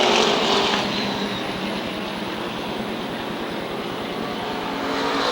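SK Modified open-wheel race cars at Waterford Speedbowl, an oval track, in 1992: a dense, continuous engine roar from a pack of cars, loud and steady for several seconds with no voices.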